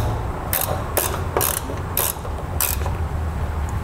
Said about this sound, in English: We can tighten that down with the ratcheting wrench.